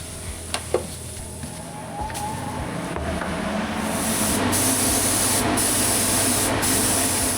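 A steady, loud hiss of a paint spray gun painting a catamaran's interior runs continuously, building after a few faint clicks and thumps at the start, with no talking.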